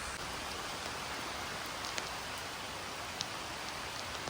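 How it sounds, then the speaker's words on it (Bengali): Steady rain falls during a stormy day, a continuous even hiss with occasional sharper drips standing out, fairly soft and with no voices. "এখন আবার মেঘ হয়ে বৃষ্টি হচ্ছে দেখতে পাচ্ছ"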